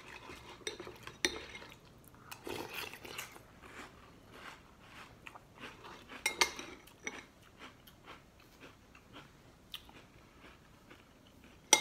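Spoon clinking against a bowl with crunchy bites and chewing as Life cereal is eaten with milk, a quiet run of scattered clinks and crunches with no talking.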